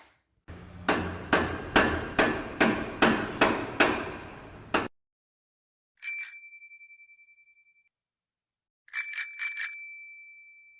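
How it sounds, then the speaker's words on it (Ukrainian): A hammer knocks eight times in a steady rhythm, then after a short silence a bicycle bell rings twice, bright and ringing out, close by. "Чули стукіт молоточка, звук дзвіночка на велосипеді"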